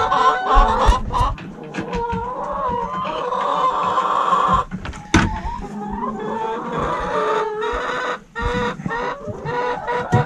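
A flock of chickens clucks and squawks continuously and fairly close, with overlapping calls and occasional louder cries, in a backyard coop before being moved out to pasture.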